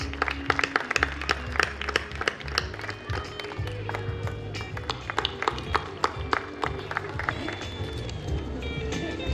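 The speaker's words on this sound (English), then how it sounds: "Kindly give a round of applause, please." An audience applauds at a fashion institute convocation, sharp, uneven claps over a busy hall background with crowd murmur, moderately loud and close.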